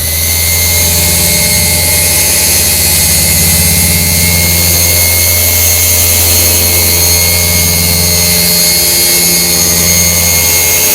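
A polishing machine with a pad runs at higher speed on a Dodge, giving a loud, steady, close motor whine and low hum with a faint pulsing throughout, and no speech.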